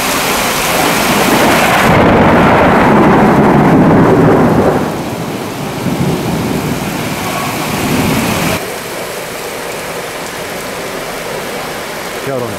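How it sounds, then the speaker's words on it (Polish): Loud, close thunder cracks and rolls within a supercell thunderstorm in Dębica, with rain falling steadily throughout; the heavy rumble swells early, then eases into quieter rolling and rain toward the end. "Piorun, piorun, piorun."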